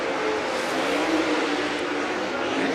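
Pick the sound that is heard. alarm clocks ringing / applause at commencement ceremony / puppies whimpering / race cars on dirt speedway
race cars on dirt speedway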